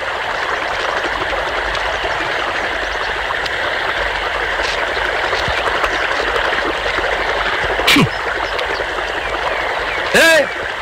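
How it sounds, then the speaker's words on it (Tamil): Irrigation water rushing steadily through a farm channel near a pump set, a continuous broadband rush filling the whole clip, with a couple of brief sharp sounds near the end. "வாய்க்கால எவ்வளவு தண்ணி போகுது"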